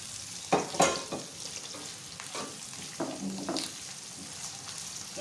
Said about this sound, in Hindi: इनको इकट्ठे भूनेंगे ताकि अच्छी तरह से इनका अरोमा जो है वो आपस में शामिल हो जाए